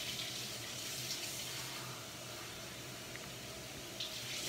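Warm water runs steadily from a kitchen tap, likely into a bowl or measuring cup for oatmeal bread dough, a constant close broadband rush with no talk.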